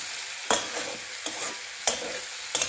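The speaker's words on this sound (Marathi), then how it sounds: "फोडणीमध्ये छान हे तुकडे परतून घ्यायचे" Jackfruit pieces stirred and sautéed in a hot spiced tempering for a Malvani vegetable dish, with a steady sizzle broken by several sharp spoon-scraping stirs, close and fairly loud, no talking.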